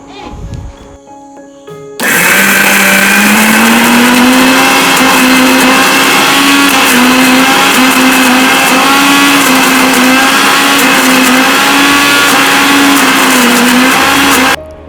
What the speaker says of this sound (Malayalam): നല്ല ഗോൾഡൻ കളറായി കഴിഞ്ഞാൽ നമുക്കിത് ഒരു മിക്സിയുടെ ജാറിലിട്ടിട്ട് നന്നായിട്ട്